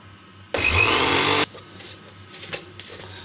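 A kitchen mixer grinder blending sugar and cocoa powder into semolina cake batter gives one loud, steady motor whir lasting about a second, followed by quieter light clatter and handling noise.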